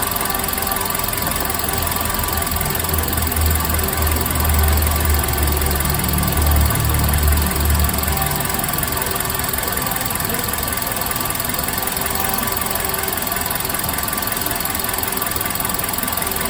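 A car engine runs steadily at a loud, constant level during a battery charging test, with a deeper rumbling swell partway through as the revs are raised, and no one talking.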